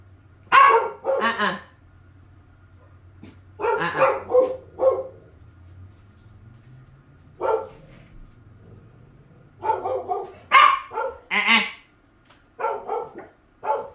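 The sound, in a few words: dogs barking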